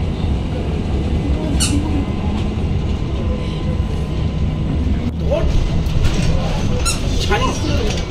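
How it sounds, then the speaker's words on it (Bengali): A train rumbles steadily, loud and close, with a constant dense roar and occasional squeaks and metallic clicks, and voices talk over it. "একটা ট্রেন দাঁড়িয়ে ছিল।"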